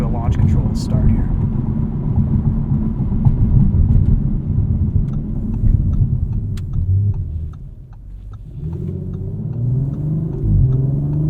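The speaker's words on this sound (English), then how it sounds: "All right, we've got to do a launch control to start here." An Audi RS5 Competition Coupe roars through a launch-control start and hard acceleration, its engine rumbling loudly and continuously with a brief dip in the middle as it shifts gears.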